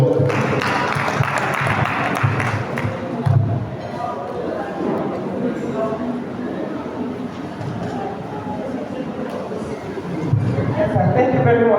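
Audience clapping at a workshop on local content, a broad steady patter of applause for several seconds that fades under a speaker's amplified voice and swells again near the end.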